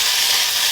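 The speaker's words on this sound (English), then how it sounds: "Hearing that sizzling sound, which will tell you that it's ready to rock and roll." A loaded omelette with vegetables sizzles steadily in a hot pan, a loud, close, continuous hiss with no talking.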